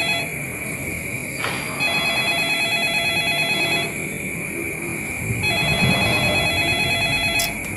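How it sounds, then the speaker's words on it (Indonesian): A telephone rings with a steady electronic tone in repeated bursts, loud and close in an indoor scene, with no talking over it. "telepon apa ya"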